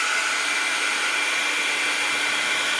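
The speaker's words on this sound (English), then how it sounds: "This is a heating gun" A heat gun blows steadily at close range onto Frixion pen ink in a journal, a loud continuous airy whoosh with no breaks.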